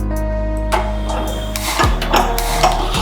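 A kitchen stove is lit beside a covered pot of beans. A few sharp metallic clicks and clanks sound close by over a steady low hum.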